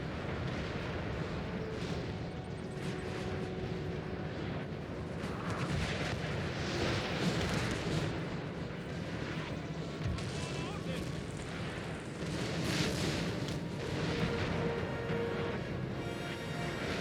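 Howitzer artillery fire in the video game Napoleon Total War, repeated booming cannon blasts at uneven intervals over a dense rumbling battle din, with someone talking over it.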